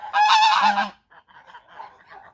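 Tula straight-beaked fighting geese give one loud, harsh burst of honking up close, followed by quieter scattered calls trailing off.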